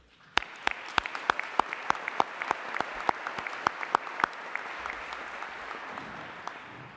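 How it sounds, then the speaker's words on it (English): A graduation ceremony audience applauds in a large hall, a dense continuous patter of clapping with sharp individual claps standing out at the front, fading slightly toward the end. "So let's get a big cheer for you."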